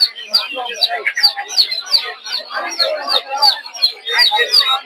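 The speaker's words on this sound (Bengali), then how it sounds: "দেশি মুরগির বাচ্চাগুলো" Native chicken chicks for sale at a village market, a dense stream of high repeated chirps and peeps overlapping continuously from close by.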